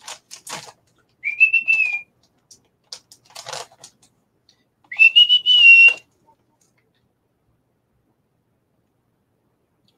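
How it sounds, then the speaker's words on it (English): A person whistles two short rising notes with a mouthful of bacon sandwich, each tone brief and slightly breathy. Quiet clicks and rustles fill the gaps between them, and long stretches of near silence follow. "I don't know if I can whistle with a mouthful of bits of bacon sandwich."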